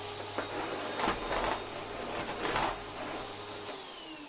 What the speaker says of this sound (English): that we can do some vacuuming again with this machine